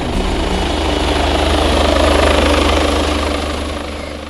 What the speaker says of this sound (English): This is certainly one of the most advanced, if not the most advanced police helicopter flying today.